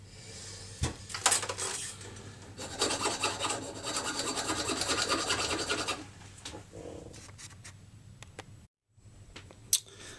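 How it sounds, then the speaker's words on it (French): Hand file rasping at the edge of a hole cut in a panel, in bursts of quick scraping strokes close by, with a few sharp knocks between passes and a brief pause near the end. "Un petit coup de lime."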